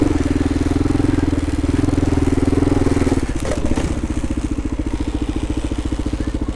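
A 2018 Kawasaki KLR650 motorcycle engine runs close and steady throughout, a low throbbing thump that shifts to a slightly different, pulsing rhythm partway through as the rider changes speed.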